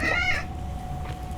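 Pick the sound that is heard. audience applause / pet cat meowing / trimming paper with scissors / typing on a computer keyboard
pet cat meowing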